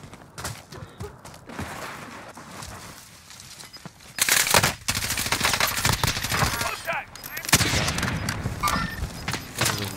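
Gunfire in Call of Duty: Warzone crackles in rapid bursts and sharp reports, getting louder partway through, with shouted voices mixed into the chaotic firefight.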